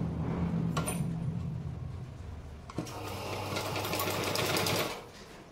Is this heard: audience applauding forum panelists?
no